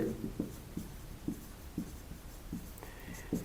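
Marker or pen scratching across a board while working a polynomial division problem in a math lesson: short, repeated strokes in an uneven rhythm, close and clear with no talk.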